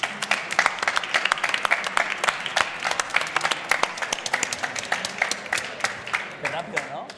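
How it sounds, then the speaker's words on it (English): A conference audience gives sustained applause for panelists, a dense run of sharp claps lasting several seconds at moderate distance, with a voice speaking over it. "give a big round of applause to all the panelists who shared their experience and thoughts"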